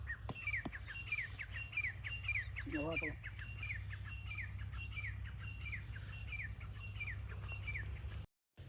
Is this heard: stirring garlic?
no